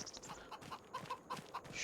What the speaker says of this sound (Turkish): Şurada tavuklar var.